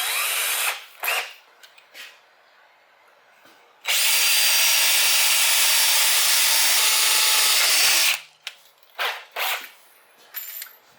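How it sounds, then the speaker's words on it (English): A power drill bores a pilot hole for a Honda Shadow motorcycle shifter peg bolt, running loud and steady for about four seconds, bracketed by shorter bursts of drilling and handling noise before and after. "Now I'm going to drill a pilot hole before I drill the actual hole for the bolt"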